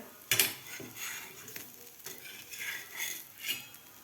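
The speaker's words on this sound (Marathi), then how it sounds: "आता आपण हे थालीपीठ पलटी करून घेऊया" Soybean and nachni thalipeeth is flipped on a pan: a sharp metallic clink of the spatula opens it, then soft scrapes and gentle sizzling follow quietly and close, with no voices.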